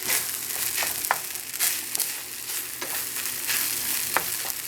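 Vegetables and black rice stir-fried in a pan for five-spice fried rice, a steady sizzle broken by scraping stirs and occasional clicks of a utensil against the pan, close and continuous with no talking.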